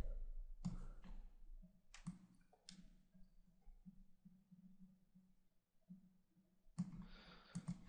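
A computer mouse clicks while an Excel chart is built: a few sharp, quiet clicks spaced seconds apart over a low, steady room hum.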